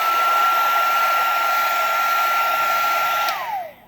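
A heat gun is passed over resin holding dried flowers, giving a loud, close, steady blowing roar with a thin whine that winds down and fades at the end.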